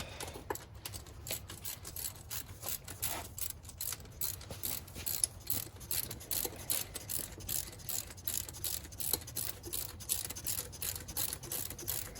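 A ratchet wrench tightens a starter bolt on a 2003–2008 Pontiac Vibe / Toyota Matrix / Corolla, giving close, steady rapid clicking that runs continuously in short strokes throughout.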